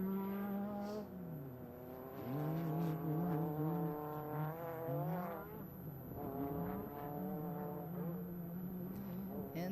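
Class 10 off-road race cars at Primm, Nevada, approach from a distance, engines revving and shifting through rising and falling whines as they draw nearer, with the rough drone continuous throughout.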